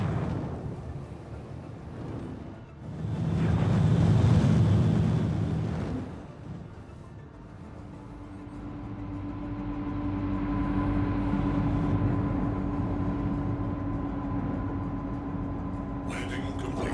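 A spaceship's landing gear deploys and the craft settles down at a station in Star Citizen, with a deep swelling rumble mid-way followed by a steady engine drone and a sharp mechanical click at the end.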